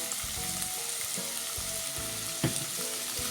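Egg chilli mixture sautéing in a pan over medium flame gives a steady, close frying sizzle, with soft stirring knocks and one brief louder clatter partway through, and no voices.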